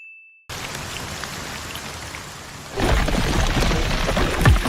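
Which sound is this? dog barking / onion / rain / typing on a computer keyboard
rain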